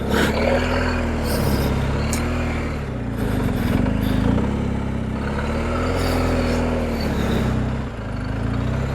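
A motorcycle engine putters at low speed nearby during a slow cone drill, its pitch rising and falling gently as the bike is eased downhill through slow turns with light rear braking; no talking.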